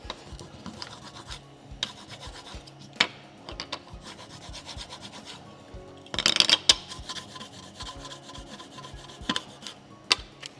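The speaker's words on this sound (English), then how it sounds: "come back, and then scrape that off" Scraper rasping cooled repair filler off a hardwood floor, a series of close scratchy strokes with a louder burst of scraping near the middle.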